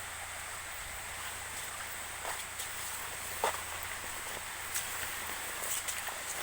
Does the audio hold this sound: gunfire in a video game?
no